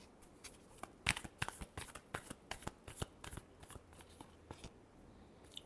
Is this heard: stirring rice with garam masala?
no